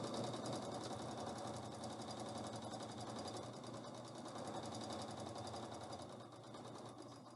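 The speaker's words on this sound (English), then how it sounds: "leaving your needle down, raise your presser foot. Scooch all that fabric through." A sewing machine stitches a belt onto the front of an isolation gown, running in a fast steady mechanical whirr with continuous rapid needle clatter close up.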